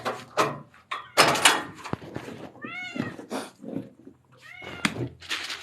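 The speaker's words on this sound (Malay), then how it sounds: "Jom kita bagi makan kucing." A cat meows close by several times, the calls wavering and drawn out, amid clattering and door or drawer sounds and some rustling.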